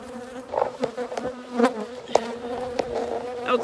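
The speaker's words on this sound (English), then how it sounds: "I don't know if you can hear the bees buzzing and trying to sting my phone, but they are." Honey bees buzzing around a beeyard in March, a dense steady hum close to the recorder with louder passes as individual bees fly near, no talking over it.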